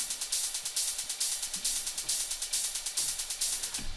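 A fast, steady industrial techno pattern of noisy hi-hat hits washed in reverb, ticking evenly on every sixteenth with a hissy tail, no voices.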